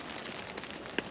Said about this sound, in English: as you can hear, it's raining now